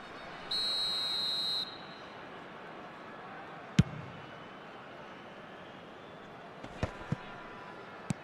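A referee's whistle in the eFootball video game: one clear, shrill blast lasting about a second over low, steady stadium crowd noise, followed later by a few sharp thuds and clicks.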